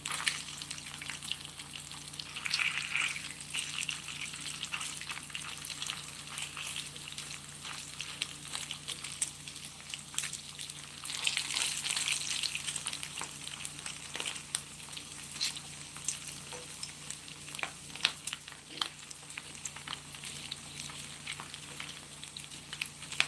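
Smoked pork jowl bacon sizzles in greased pans in a home kitchen, giving a steady, close, crackling fry with occasional spatters and stirring noises, and no talking.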